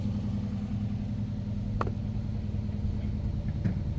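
Steady low idle of a 2009 Infiniti FX50S engine after a cold start, an even, close, unbroken rumble with only a couple of faint clicks over it.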